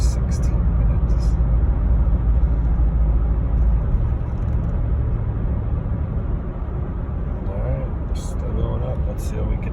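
A 2010 Jeep Grand Cherokee with the 5.7 HEMI drones steadily from inside the cabin, a constant low engine and road rumble, with a voice talking over it.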